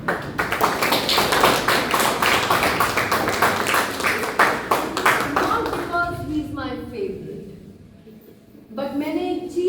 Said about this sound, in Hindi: इनके लिए तालियां तनिक ज्यादा बनती है, तो तालियां हो जाएगी।